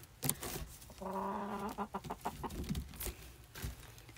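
A farm chicken clucks close by in a barn-like space, with a sustained tonal call in the middle and a few short clucks and rustles around it.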